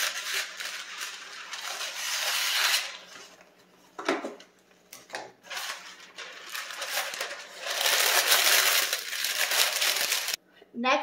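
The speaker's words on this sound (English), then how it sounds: "cut your parchment paper to fit into your glass dish" Parchment paper is cut and crinkled to fit a glass baking dish, with bursts of crisp crackling and scissor rustle separated by short pauses, loud and close.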